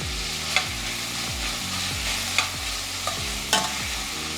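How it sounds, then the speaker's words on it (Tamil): Onions sizzling steadily in a hot pan for mutton kuzhambu, with a few sharp scrapes and clinks as a spoon stirs them, heard close and without talk. "ஆனியன் லைட் கோல்டன் ப்ரௌன் கலரை வர வரைக்கும் வதக்கிக்கோங்க."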